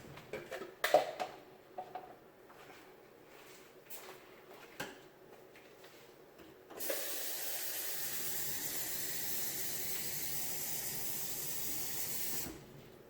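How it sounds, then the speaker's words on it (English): After a few clatters and knocks, water pours steadily into a pot holding coconut milk for several seconds, a continuous hissing splash that stops abruptly. "Now I gotta add some water to this."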